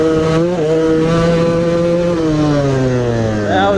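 A motorcycle engine revs out hard in second gear, a loud, close, strained drone that climbs steadily in pitch, dips briefly, then rises again at the end, with no talk over it.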